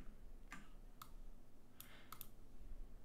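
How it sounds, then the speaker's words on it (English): A few sharp computer keyboard clicks sound close and quiet, a single keystroke followed by an Enter press and a couple more taps, spaced irregularly over a faint room hiss. "We just write big Y and press enter."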